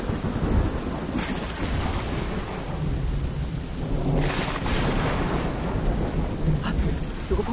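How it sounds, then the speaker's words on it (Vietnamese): Heavy rain pours without pause in an ancient-costume film scene, with low rolling thunder rumbling under it and a louder crack of thunder swelling near the middle before fading back into the steady downpour. "Mưa to quá"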